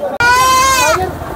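A young Barbari goat kid bleats at a busy goat market, one loud, close, wavering cry lasting under a second, with faint crowd noise around it.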